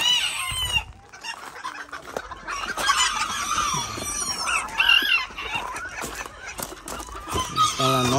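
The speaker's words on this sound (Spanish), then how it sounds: "Está bien chiquitito el gallito también, Irene" A small young rooster and a hen cluck and crow close by in a breeding yard, busy overlapping calls over faint background voices.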